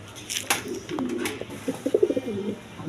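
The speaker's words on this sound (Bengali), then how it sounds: "দশমিদা এখানে এক পেয়ার কবুতর আছে দেখেন" A pair of German Beauty pigeons coo close by with a short run of soft, low, repeated coos, preceded by a few sharp rustling knocks.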